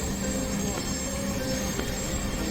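Dhaka metro rail train pulling into a station, a steady loud rumble with a sustained high wheel squeal and faint rail clatter throughout.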